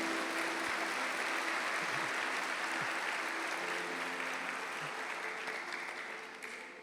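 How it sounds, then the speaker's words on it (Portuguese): A church congregation applauds for pastor Isa, steady broad clapping filling the room for several seconds and slowly fading toward the end. "Uma salva de palmas, irmãos, para a vida da pastora Isa."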